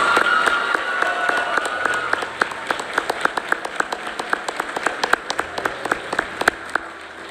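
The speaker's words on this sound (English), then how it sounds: "A big round of applause for all of the nominees" An audience at an educators' awards ceremony applauds, with many hands clapping at once and a few sharp individual claps standing out, sustained for several seconds.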